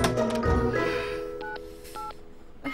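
Telephone keypad dialing tones beep in a short series of distinct, evenly spaced presses, fairly close and clear with a faint tonal hum beneath, in a domestic scene from a TV commercial.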